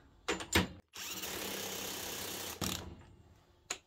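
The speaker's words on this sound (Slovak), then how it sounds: "Teraz tie skrutky vyskúšam dotiahnuť všetky 3 s 8 Ah batériou. A je to vidieť. To sú neskutočné rázy." A Parkside Performance PASSP 20 cordless impact wrench, running on an 8 Ah battery, tightens bolts: a couple of short bursts, then a long, loud, steady mechanical whirr lasting about two seconds, followed by fading spin-down and one final brief burst.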